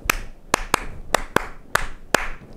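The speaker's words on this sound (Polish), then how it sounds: "przy ognisku czy na koncercie klaszczemy la, la, la, la, la, la, prawda? W ten sposób, prawda?" Hands clapping a simple rhythm, seven sharp close claps in a slightly uneven pattern with no talk over them.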